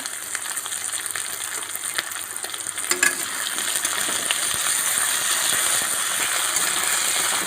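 Potatoes with salt frying in a pan for a pumpkin-leaf dish, a steady dense sizzle that swells slightly louder partway through, with a few scraping stirs and clinks near the start.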